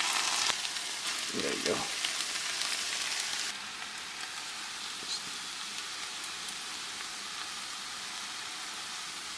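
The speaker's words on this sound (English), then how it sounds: "put in tomatoes. Now that shit's about to get real steamy right now" Tomatoes dropped into a pan of browned, caramelized onions sizzle loudly and steadily like heavy rain, easing to a softer continuous hiss, with a brief spoken remark near the start.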